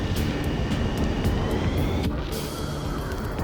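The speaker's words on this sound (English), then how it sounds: "Multiple unidentified aircraft approaching." Jet aircraft in the Ace Combat 7 game roar continuously with a loud broadband engine rumble and whine, a steady heavy drone with a few brief clicks over it.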